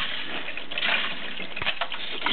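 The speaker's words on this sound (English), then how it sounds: "Just pour a little water in there." Water is poured into a microwave to cool it after a lightbulb experiment, giving a short steady splashing pour with a few brief gurgles and no voices.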